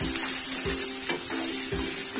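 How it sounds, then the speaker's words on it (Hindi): Finely chopped onions fry in oil until golden, a steady, close sizzle with a few clear spoon scrapes against the pan. "प्याज को हल्का सा गोल्डन कर लेना है"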